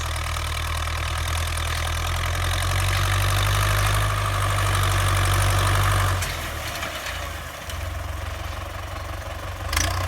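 A farm tractor engine drones loud and close while covering sown vetch seed in a former corn field, a steady heavy idle-like rumble that drops in load partway through and then continues.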